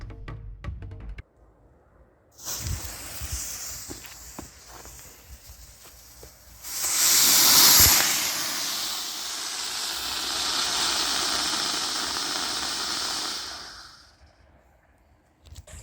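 After some quiet handling noises, a small sugar rocket motor mounted on a plastic boat ignites into a loud, harsh hissing roar that burns steadily for several seconds, then cuts out.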